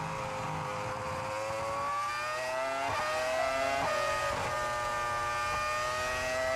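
A high-pitched Formula One engine wails continuously, revs rising and falling through quick gear shifts, heard from a distance at moderate volume.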